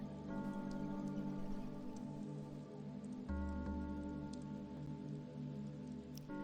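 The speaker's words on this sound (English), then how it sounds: "the only sound in the alley was the sound of the rain" Steady rain falls in an alley in the game Chaos;Child, a continuous hiss of drops on hard surfaces layered over sustained low musical tones, with occasional brighter drips standing out.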